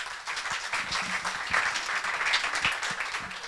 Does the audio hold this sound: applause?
yes